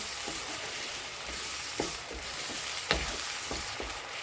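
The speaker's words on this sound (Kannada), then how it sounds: "ಹಸಿ ವಾಸನೆ ಹೋಗೋವರೆಗೂ ಚೆನ್ನಾಗಿ ಫ್ರೈ ಮಾಡ್ಕೊಳ್ಳಿ" Tomato puree frying and being stirred in a pan for an okra (ladies finger) curry, a steady close sizzle broken by several short scraping stirs of a spoon.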